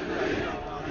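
Galatasaray fans chant at an open training session with flares, a dense, steady roar of many voices from a large crowd for a brief moment.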